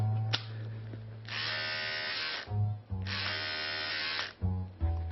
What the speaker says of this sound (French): Parce que c'est une brosse à dents.